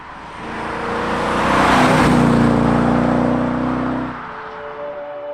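A Mercedes W108 sedan fitted with a 5.6 liter SEC V8 revs hard and close, its deep engine tone swelling to a loud peak over a few seconds and then dropping back to a quieter idle.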